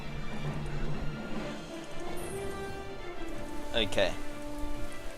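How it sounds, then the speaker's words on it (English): Steady patter of video game rain fills the scene, with a faint low rumble of thunder beneath and a brief spoken word near the middle. "Raining, thunder, what more could you want?"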